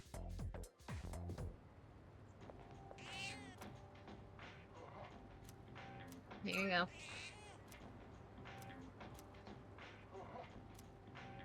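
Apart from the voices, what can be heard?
cat meowing in video game Persona 3 Reload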